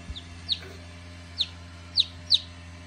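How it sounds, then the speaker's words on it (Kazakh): Four short, high peeps from hatching chicks sound one at a time at uneven intervals over a low steady hum. "Балапандар жайлап шығып жатыр естіп."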